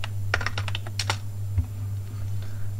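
Keys clatter on a computer keyboard in quick, uneven bursts, close and fairly loud, with a pause before a final lighter few taps over a steady low electrical hum.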